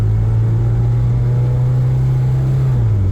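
A Toyota TE72 wagon with an automatic gearbox is driven from inside the cabin, its engine holding a loud, steady drone and low hum that dips slightly near the end as it shifts.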